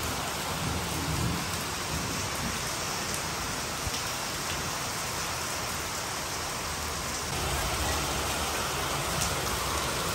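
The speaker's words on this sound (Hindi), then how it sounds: "अभी 2 घंटे के ब्रेक के बाद वापस बारिश स्टार्ट हो गई है" Rain returning on a farm after a two-hour break, a dense and steady downpour that hisses continuously throughout, with no voices.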